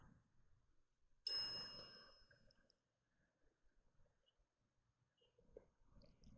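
A single bright bell ding rings out once in a quiet cemetery setting, sharp and clear with a ringing tail that fades over about a second, followed by faint low rustling.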